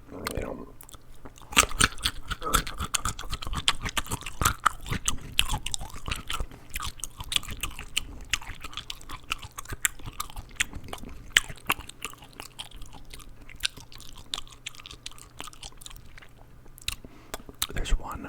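Close, crisp crunching and chewing of carrots, celery, apples, pickles and mixed nuts, with rapid irregular bites and munching that go on steadily, quiet and intimate in an ASMR style.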